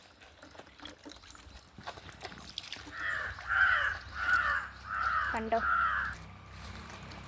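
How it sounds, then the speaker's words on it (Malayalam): Several crows cawing from trees beside a stream, five loud harsh calls in a steady series over faint background noise, with a brief spoken word just before them. "മരങ്ങളിലൊക്കെ കിളികൾ ഇങ്ങനെ കളിക്കുന്നത് കാണാം"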